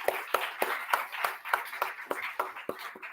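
An audience claps for a team at a lecture and book launch, with sharp, fairly regular claps at a moderate pace close by, the applause fairly thin and steady throughout.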